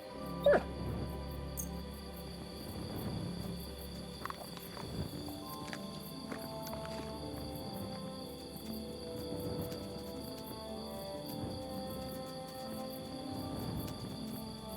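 A dog in the video game Kingdom Come: Deliverance 2 whimpers softly a few times over a quiet outdoor ambience with chirping crickets and light game sounds, with no speech.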